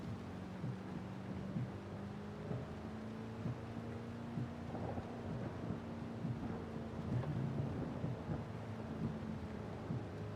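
Rain and rolling thunder sound during a drive in the Forza Horizon 5 video game, set over a low, steady car engine hum. The rumble and patter stay soft and continuous.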